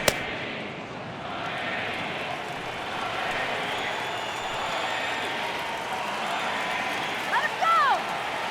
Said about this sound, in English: I can hear the crowd murmuring now